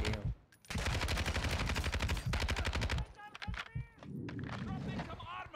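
Rapid automatic gunfire in the video game Modern Warfare 2, dense sustained bursts of shots close up, then a pause and a busier mix of fire and effects, with talk over parts of it.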